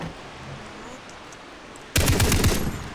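A sudden burst of rapid gunfire in the video game Far Cry 3 cuts in after a quiet stretch of low background noise, loud and continuous for about a second.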